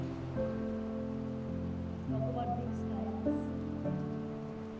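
Steady rain falls on a farm in Sattari, Goa, a constant soft patter that holds through the whole stretch while a few faint tones drift over it, with no one speaking.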